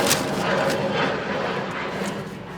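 An airplane passes overhead outdoors, a steady broad engine roar that fills the short stretch at moderate loudness with no speech.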